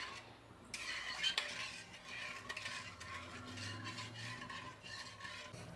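Sugar syrup for Mysore pak bubbling in a thick-bottomed kadai while a spoon scrapes and stirs it, giving soft steady simmering with clinks and scraping strokes, no talking.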